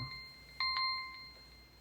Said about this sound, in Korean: 여기서 종이 울린 거는 5분이 지났다는 겁니다